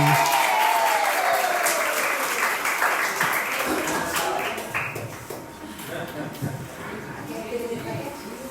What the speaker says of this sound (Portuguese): uma salva de palmas para os nossos irmãos, a Kelly e o Douglas, que chegaram